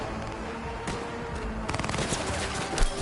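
Gunfire in the video game Cyberpunk 2077 during a firefight, with a dense spread of shots and bursts, heavier and more rapid in the second half, loud and continuous throughout with no talk.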